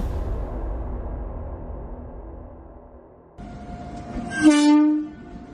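A train effect in a Bengali audio drama: a low rumble of rolling carriages gives way to a loud, sustained horn blast near the end, then fades.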